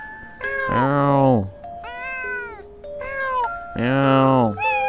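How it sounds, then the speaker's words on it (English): A cat meows repeatedly in long, pitched, wavering cries, close and loud, with three main calls and shorter ones between over a steady soft background. "I guess I meow at random times."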